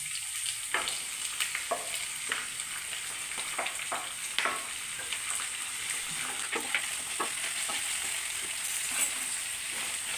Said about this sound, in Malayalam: നമുക്ക് ഈ സവാളയും ഇട്ട് കൊടുക്കാം.